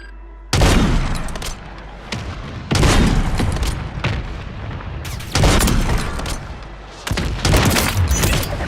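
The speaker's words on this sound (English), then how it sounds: "Friendly mortar strike on the way." A friendly mortar strike in Call of Duty Warzone lands as a series of heavy booming explosions, four loud blasts spaced about two seconds apart, each with a rumbling tail.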